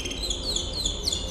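Birdsong: quick repeated high chirps and tweets ring over a steady background hiss, moderately loud and without any talking.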